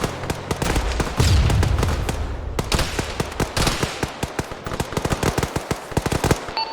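Rockets explode and automatic gunfire rattles in the military shooter game Arma 3, with a heavy blast followed by dense rapid volleys of sharp cracks and bursts, loud and continuous, without speech.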